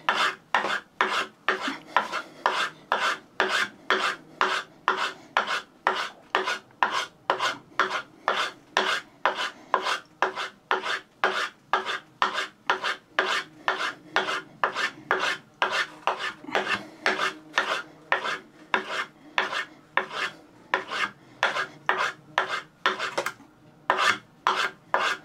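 A knife blade is drawn back and forth over a homemade strop in a steady, even rhythm of roughly fifty raspy rubbing strokes, close and clear, with no talking.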